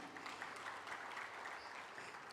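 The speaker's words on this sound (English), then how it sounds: "Another round of applause for her." An audience at an official launch event in Nigeria gives another round of applause, steady, even clapping that is fairly quiet and sounds some distance away.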